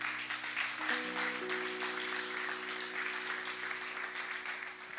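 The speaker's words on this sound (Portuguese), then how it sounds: "Aplauda o Senhor." Church congregation applauding in praise, a steady broad wash of clapping that fills the whole stretch at moderate distance, with a sustained organ or keyboard chord entering partway and holding beneath it.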